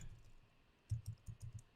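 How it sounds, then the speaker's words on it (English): Computer keyboard typing, a soft cluster of quick key clicks after a quiet pause, close and faint with no talking. "I'm typing it in"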